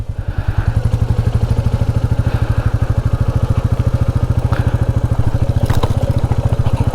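A motorcycle engine runs close by with a steady, rapid thumping beat as the bike pulls away, loud and constant for the whole stretch with no talking.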